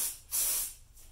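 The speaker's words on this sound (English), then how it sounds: "And I'm going to spray it" Stoner mold release spray from Alumilite misted onto a pen blank mold on a workbench, heard as two short hissing aerosol bursts, the first brief and the second longer and louder, with a faint tail of hiss after.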